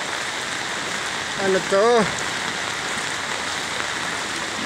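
Steady broadband rain pours throughout during street flooding in Alapan 1-A, Imus, Cavite, with a brief voice speaking midway over the constant hiss.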